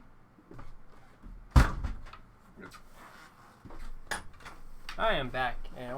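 A door shuts with a loud close thunk, followed by lighter knocks and clatter, then a brief high squeaky sound near the end, in an indoor room during a small computer build.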